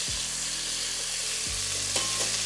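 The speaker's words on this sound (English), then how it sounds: "We're gonna turn these over, let them sear on the other side" Beef short ribs searing in a hot pan, a loud continuous sizzle with a couple of brief stirring or turning sounds, close and alone without talk.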